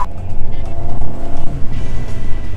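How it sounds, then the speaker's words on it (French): A car engine revs hard close by and pulls away on narrow streets, a loud continuous roar that surges and holds steady throughout. "c'est que Elliot il vient de démarrer sa voiture pour me montrer comment faire."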